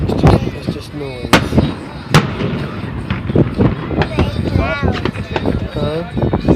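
Fireworks burst over the harbor docks at Crab Island near East Pass, with booming and crackling explosions heard from a distance beneath frequent talk and children's voices close by.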